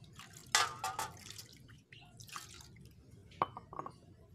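An air rifle chamber part clogged with Dextone glue being rinsed clean, giving wet splashing and dripping water sounds in a few short bursts, close and fairly quiet, with no talking.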